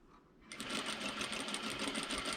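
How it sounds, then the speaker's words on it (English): A domestic sewing machine backstitching fabric for a DIY wine bag, starting after a short quiet moment and then running as a steady, close, continuous whir with rapid needle rhythm. "I'm going to backstitch a little bit at my opening"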